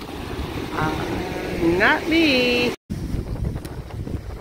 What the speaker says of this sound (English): This boat is moving pretty fast here.